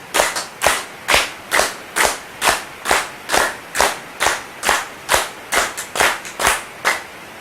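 Hands and fingers clapped and snapped in a steady rhythm imitate rain, roughly two sharp slaps per second close up and loud, with no voices.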